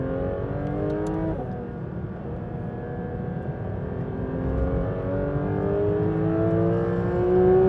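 A Porsche 992 GT3 RS engine accelerating hard, a loud continuous wail whose pitch climbs steadily, broken briefly by a single upshift, heard from inside the car without talk.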